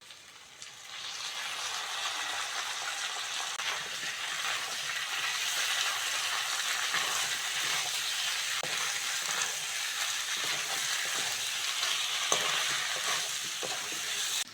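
Taro frying in a pan with ginger garlic paste just added, a soft continuous sizzle with stirring scrapes, moderately close and steady throughout, no talking.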